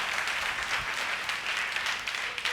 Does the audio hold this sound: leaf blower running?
no